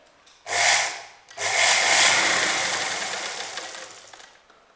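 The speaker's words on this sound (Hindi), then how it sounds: "थोड़ा ऊपर से आप सिलाई स्टार्ट कीजिए।" Sewing machine stitching fabric for a blouse back-neck design, a short whirring run followed by a longer continuous burst that gradually fades, close by with no talking.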